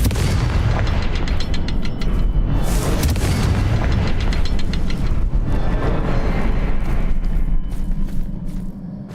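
A Confringo fire spell erupts in Hogwarts Legacy as a loud, sustained boom. The blast rolls on for several seconds, with crackling bursts layered over a heavy low rumble.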